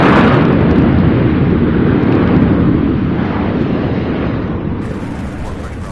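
A 16-year-old Southwest Boeing 737-700 flying out of Midway, heard at an airport as a loud, broad jet roar close by that slowly eases off.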